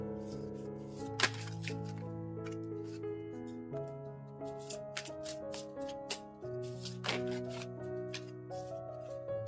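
Tarot cards shuffled in soft crisp riffles and slaps, with several brief bursts rising over gentle tonal background music.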